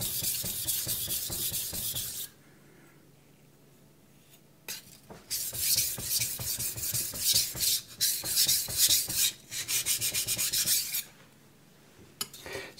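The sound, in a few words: sharpening a knife on a Shapton Pro whetstone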